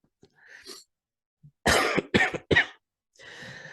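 A few dry coughs from a man come in a quick burst of three after a faint throat sound, then a short breathy exhale, all close to the microphone in an otherwise quiet room.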